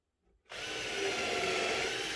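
A power drill drives screws into a wooden bird nesting box, starting abruptly after a brief tap and holding a steady, loud whine with wood-grinding rasp, close by and without talk.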